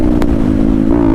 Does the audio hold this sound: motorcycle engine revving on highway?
yes